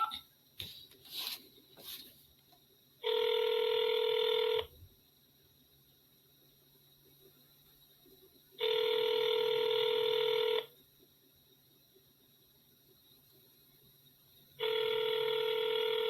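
A phone call placed: a few faint taps at first, then three loud ringback tones, each about two seconds long and separated by longer silences, with no one answering.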